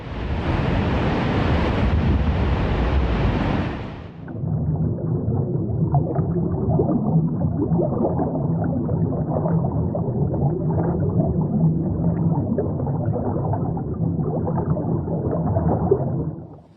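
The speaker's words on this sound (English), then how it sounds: "Huge sections of glacier ice collapse into the water in a dramatic calving event, churning the surface with waves and floating ice." Glacier ice collapses into water in a calving event, a loud roaring crash that cuts off abruptly, followed by a steady low churning wash of waves and floating ice.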